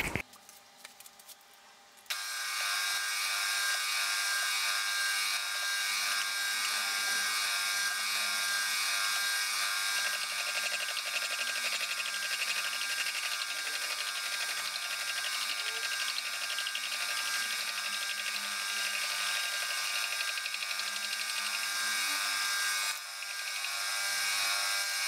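Steady, loud whine of a machine cutting a metal part for a mini Caterham steering rack, turning slowly at about 180 rpm, running continuously after a brief start and dipping near the end, with no talk.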